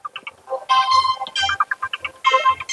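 A mobile phone rings with a bright, melodic electronic ringtone, its repeating tones and short chime phrases sounding clearly and close.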